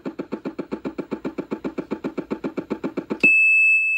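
Fast, harsh electronic buzzing pulses, about five per second, repeating steadily and then giving way to a sustained high-pitched tone. Sound effects from the Atari 2600 Jaws video game, loud and grating.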